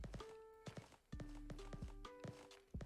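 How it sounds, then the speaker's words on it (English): Footsteps in the video game Introvert: A Teenage Simulator land as a series of hard, close thuds at an uneven walking pace, with faint tonal game sounds in the background. "I hear footsteps."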